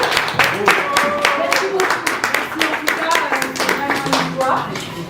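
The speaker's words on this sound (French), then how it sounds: "En tout cas, veuillez applaudir." Audience applause at a concert event at the Casino de Paris, a burst of close, rapid hand clapping that fades slightly over a few seconds.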